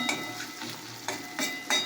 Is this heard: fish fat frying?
yes